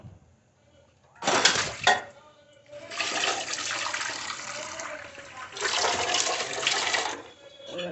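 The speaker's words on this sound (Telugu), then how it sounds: "ఒకసారి చింతపండు ఇలా కడిగి" Borewell water splashes as tamarind is rinsed by hand, coming in several uneven bursts of sloshing and pouring, close by, with quieter gaps between them.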